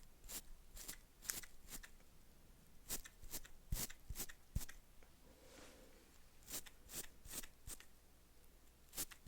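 Small scissors snipping eyebrow hair close up, a series of crisp, quick metallic cuts coming in irregular clusters over a soft background hiss, with no talking.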